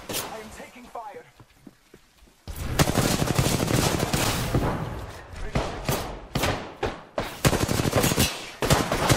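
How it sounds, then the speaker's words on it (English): Rapid automatic gunfire in the Apex Legends video game, loud dense bursts of shots and impacts after a quieter opening, with a player's voice speaking briefly. "I am taking fire."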